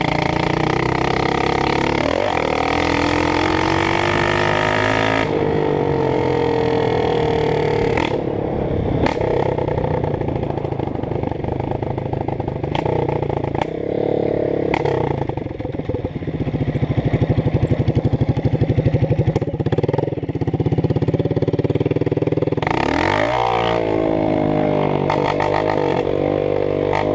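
A Honda CRF 230 dirt bike with a sticking throttle and recently adjusted carburetor revs hard and loud up close, its engine climbing and dropping through repeated bursts between rough idling stretches.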